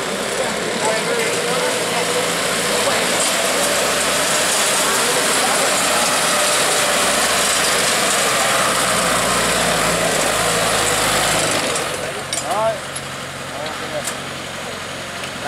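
A Kubota W3008 (Kubota 105) diesel engine mounted on an improved Ngọc Phượng walk-behind tiller runs with a loud, steady mechanical clatter and rattle, easing slightly near the end.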